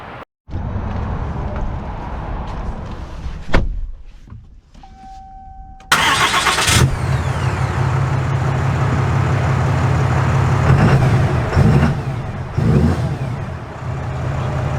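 A 2024 Ram HD Limited pickup truck is started after some muffled cabin handling noise. The engine catches with a loud burst, then settles into a steady, close rumble.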